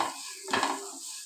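Vermicelli and semolina roasting in a pan while being stirred, giving a soft dry scraping hiss with one brief louder stir midway, close and alone.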